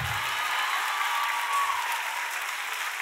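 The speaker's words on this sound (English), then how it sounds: "Give Jared a big round of applause." Audience at a youth conference gives a full round of clapping, a dense, steady wash of many hands that holds at an even level throughout with no speech over it.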